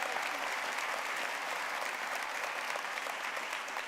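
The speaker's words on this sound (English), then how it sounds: "if we can give him a round of applause" Applause at the Greece Olympia high school commencement ceremony honouring a board member, a steady, even wash of clapping from a sizeable crowd, somewhat distant and soft.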